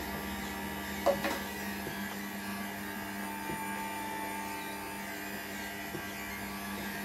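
A juicer machine runs while juicing persimmons and apples, giving a steady motor drone and whine with a few brief clunks near the start, moderately loud and alone.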